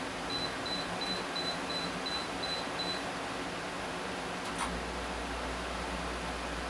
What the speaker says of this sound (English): the compressor's on, and that's as noisy as it is when it runs